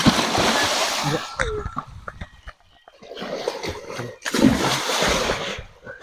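People jumping one after another into water, each leap bringing a loud splash and sloshing churn, separated by a short lull, with voices calling out between the splashes.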